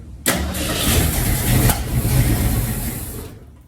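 A 1966 Ford Mustang engine, recently low on gas, cranks briefly and catches, then runs with a loud rough mid-pitched roar and a short rev before settling and cutting off, close by with no talk.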